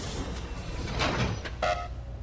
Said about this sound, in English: The doors just kind of move.